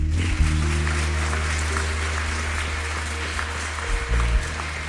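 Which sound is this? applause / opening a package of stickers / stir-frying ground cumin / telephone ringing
applause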